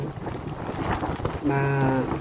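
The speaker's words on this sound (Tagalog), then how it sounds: "Kahapon at ngayon, malakas ang levante, tawag nila, yung hangin na" Steady gusting levante wind off the sea buffets the microphone with a broad roar, and a low tonal hum rises near the end.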